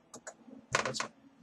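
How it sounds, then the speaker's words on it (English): Cutters trimming excess lead wire while working on a Motorola 51X12 radio: two light clicks, then a tight cluster of sharper, louder snips close by. "Let's cut us off an excess length here of lead."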